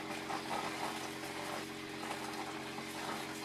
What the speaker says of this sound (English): Should hear the pump start up.